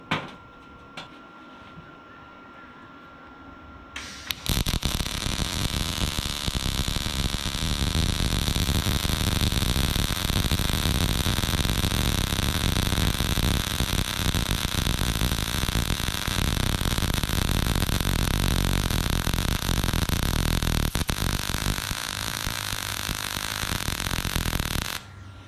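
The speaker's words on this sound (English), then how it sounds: "as you see there, that's pretty much my first ever weld" A Harbor Freight Titanium 140 welder joins two metal pieces at a right angle, producing a steady loud crackling hiss that starts after a few quiet seconds and runs continuously for about twenty seconds.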